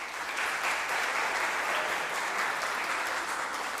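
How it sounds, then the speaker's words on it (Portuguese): Church congregation clapping during a Portuguese-language sermon, a loud, dense and continuous burst of applause filling the whole moment without speech. "Aplauda o Senhor Jesus."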